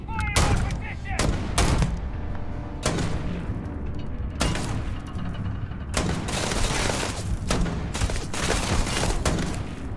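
Gunfire in the sci-fi video game Starfield: repeated loud bursts of shots and booming blasts in irregular volleys over about ten seconds, with faint background voices.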